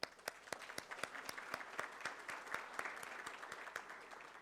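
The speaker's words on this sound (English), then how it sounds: "And let's give them a round of applause for that." A conference audience at a mining conference in Serbia applauds guest speakers: a modest crowd's scattered clapping, with sharp, regular claps standing out over a softer bed of hands, steady and fairly quiet throughout.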